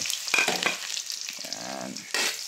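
Garlic, ginger and onion hit a hot pan for pork adobo, giving a bright, close sizzle with stirring scrapes that swell again at the end of the short burst.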